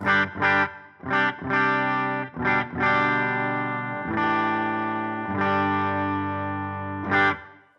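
Clean electric guitar chords through a clean amp model ring out with a touch of reverb, a series of strummed and sustained notes with short pauses between.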